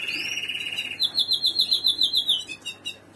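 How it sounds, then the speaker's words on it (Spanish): Caged breeding birds chirp close by, first one long steady whistle, then a fast rhythmic run of bright repeated notes ending in a few short chips. "muy bonitos pájaros"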